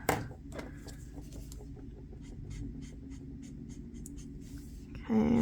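Artxx OROS pastel marker nib gliding across paper while blending purple into pink, a soft continuous scratchy scrubbing with repeated short strokes, close and quiet, with a louder rustle at the very end.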